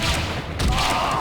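Shotgun blasts in the game Indiana Jones and the Emperor's Tomb, a dense, loud burst of booming fire filling the whole short moment.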